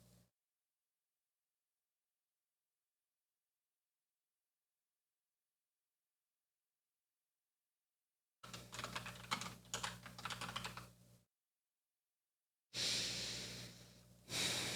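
Typing on a computer keyboard, heard close and quiet in two separate bursts of rapid key clicks after a long silence, with soft breathing between them.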